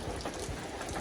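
Water dripping from an overhanging rock, sounding like rain: a soft, dense patter of drops, faint and continuous, for about a second.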